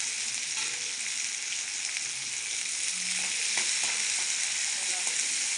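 Chopped onions fry in a pan, giving an even, close hiss of sizzling oil with a few soft clicks near the end and no voices.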